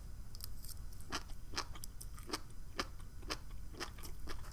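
Crisp, crunchy chewing of seaweed salad from a poke bowl, a dozen or so sharp close bites and crunches in a steady rhythm over a low background hum, with no talking.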